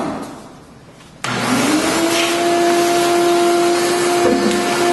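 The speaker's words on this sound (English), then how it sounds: "I need to make sure that I vacuum my station down." A vacuum cleaner switches on abruptly after a quiet moment and runs at a steady, loud whine while cleaning a drill press station, with no talk over it.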